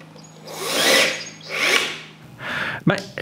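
A power drill drives a screw through a hinge into wood on a bathroom vanity build, whirring in three close, loud bursts before a sharp clatter at the end.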